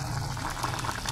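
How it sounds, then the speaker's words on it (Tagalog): A pot of pork ribs and potatoes bubbling at a steady boil, a continuous low churning bubble with faint pops, fairly close and alone without talk. "Yan, nagkulo na siya."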